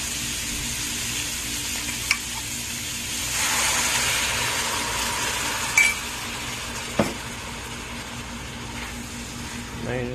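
Coconut hits a pan and is stirred while a dish of brown stew fish in shrimp sauce cooks: a steady broadband sizzle swells for a few seconds, with a few sharp clinks of a utensil against the pan.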